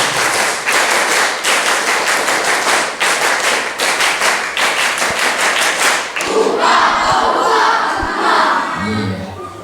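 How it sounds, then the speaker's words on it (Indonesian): Seated school students clap in unison in sharp, crisp single claps, repeated in quick rhythmic bursts with brief pauses, loud and close; afterward the clapping gives way to crowd murmur and talk. "Tepuk tunggal"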